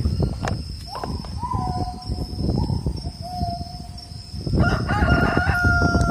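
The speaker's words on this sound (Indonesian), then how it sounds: "Ayam jantan teman-teman." Roosters crow in long drawn-out calls, one after another and then overlapping, with insects chirring and farmyard noise behind them.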